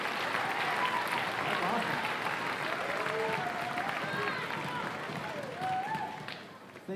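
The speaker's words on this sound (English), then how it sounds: "So give Tim Smith a round of applause for that" Audience applause at a school band concert: a full, steady crowd of clapping that tapers off toward the end, with scattered voices and cheers rising over it.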